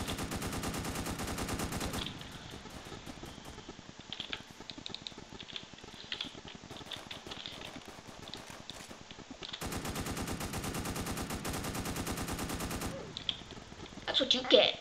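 Rapid automatic gunfire in a Roblox video game, with dense bursts of tight, rattling shots that run for a couple of seconds and then return later, and quieter scattered clicks and game sounds in between.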